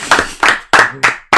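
Five slow, deliberate hand claps ring out close and loud in an even rhythm, each a crisp smack with a short decay, with no talk over them.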